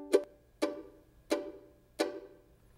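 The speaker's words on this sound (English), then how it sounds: "that's what I play the mandolin chop on, is that off beat" Four crisp mandolin chop strokes land on the off beat at an even bluegrass pace, each a sharp percussive chord that quickly dies away, close and clear with no talk.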